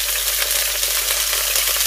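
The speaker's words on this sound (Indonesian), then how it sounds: "Ini bawang putih yang 3 siung tadi kita tumis hingga" Three garlic cloves sautéing in hot oil, a dense, loud, continuous sizzle and crackle right up close, with no speech over it.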